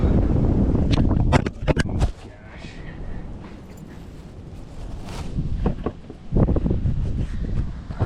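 Gusty wind buffets the microphone outdoors beside a Coleman Outfitter, rumbling loud and broadband in surges with a quieter lull in the middle, while brief clicks and knocks cut through.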